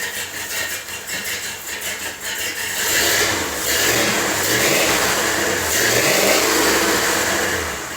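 A 1977 Ford F-250 truck engine runs nearby, a rough rumbling idle that swells into a louder, steady revving drone midway and holds there, with no voices over it.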